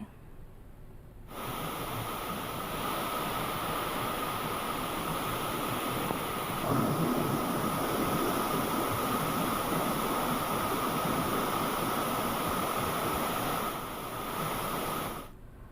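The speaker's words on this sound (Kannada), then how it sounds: "ಕಲ್ಲು ಬಂಡೆಗಳ ಮೇಲೆ ಜಲಪಾತದ ಆರ್ಭಟ ಜೋರಾಗಿದ್ದು" Sirimane waterfall in Chikkamagaluru, swollen after heavy rain, pours over rocks in a dense, unbroken roar of rushing water that holds steady and loud throughout, with no voices.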